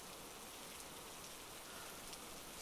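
Rain falling steadily, a soft continuous patter and hiss of drops on surfaces, fairly faint and even throughout with no voices.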